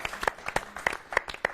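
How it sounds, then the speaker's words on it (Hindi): Applause from an audience at a comedy show, with claps rising and falling in a quick, uneven rhythm for a brief moment. "जोरदार तालियां"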